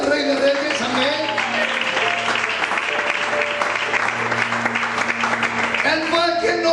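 A church congregation applauds, a dense continuous clapping that fills the room while a voice or music carries on beneath it.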